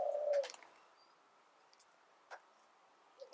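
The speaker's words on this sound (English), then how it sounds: "Oh, my pigeon." A pet pigeon coos once, close and fairly loud, a short low call at the start followed by quieter faint clicks and rustles in a calm indoor space.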